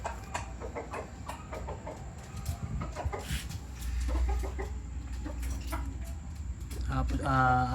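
Four-month-old gamefowl chickens cluck and squawk in repeated bursts close by, with a steady hum and bits of background noise underneath.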